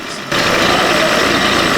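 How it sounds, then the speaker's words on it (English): A Parsun outboard engine with a misfire starts up abruptly and then runs loud and close, holding a steady but rough, uneven drone with no voices. "realize that the engine continues with an unstable regime."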